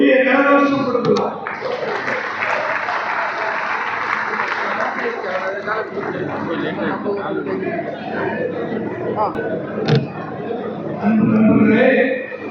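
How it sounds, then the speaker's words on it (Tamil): Steady, sustained applause from the audience at a district seminar on community service, with crowd chatter mixed in. A speaker's voice comes in at the start and again at the end. "பெரிய கரகோஷம் கொடுக்கலாம்."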